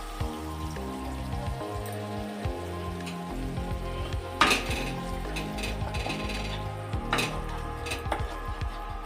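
A spatula stirs and scrapes cashew paste frying in oil in a metal pan, with steady clinking metal taps and a soft sizzle, plus a few sharper clanks.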